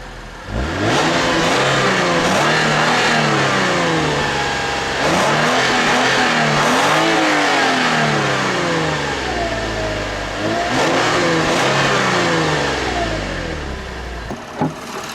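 A 2008 Lexus IS250 AWD with its 2.5-liter V6 revving repeatedly, rising and falling through several loud pulls close by, settling back toward idle between bursts.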